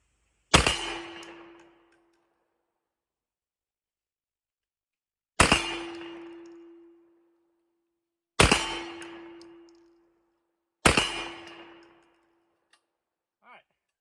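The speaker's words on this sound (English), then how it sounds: "I don't know what the little fluke was on that first shot, but it just didn't quite eject the round." Four loud shotgun blasts firing Lee 7/8oz hobo slugs at a target, spaced a few seconds apart, each sharp report followed by a ringing metallic decay, with a faint click near the end.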